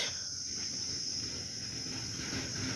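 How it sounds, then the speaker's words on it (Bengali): Crickets around a small pond beside a cremation-ground Kali temple in Galsi keep up a steady, high, unbroken trill, fairly faint and alone. "চারধারে ঝিঝি পোকার আওয়াজ"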